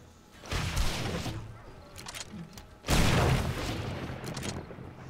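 A frag grenade blast in the 7 Days to Die video game, with two heavy booming bursts of crashing noise, loud and close, each rumbling on for a couple of seconds.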